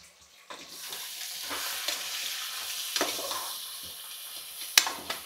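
Salt and chilli powder stirred into a sizzling pan, a steady frying hiss with scraping spoon strokes at intervals, close up and without any talking.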